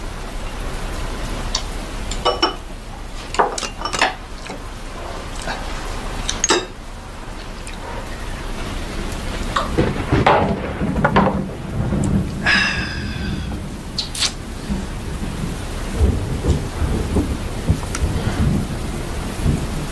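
Heavy rain pours down steadily while thunder cracks and rolls several times, loud and close, with no voices.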